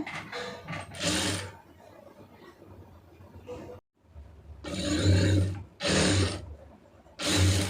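A sewing machine runs in several loud bursts while stitching a lined blouse, each a whirring drone of a few seconds separated by short pauses, with someone talking quietly in the gaps.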